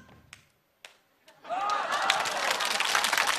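Audience applause and cheering at a Chinese errenzhuan comedy stage show, breaking out loud and sustained after a few sharp taps and a brief quiet, a dense roar of clapping with shouts mixed in.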